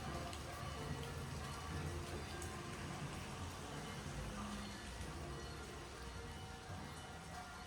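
Heavy rain falls in a continuous, fairly soft rushing hiss that stays even throughout, with no pauses.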